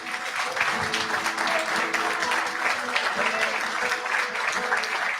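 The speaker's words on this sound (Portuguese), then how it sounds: "Dê um aplauso a Jesus." Audience applause at a Portuguese-language church service, steady and dense clapping from a congregation sustained for about five seconds, with a faint voice underneath.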